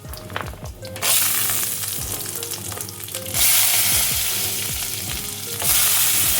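Peanuts dropped into hot tempering oil with dried red chillies, cumin, urad dal and chana dal, erupting into a loud, close sizzle in bursts, with spoon clinks near the start.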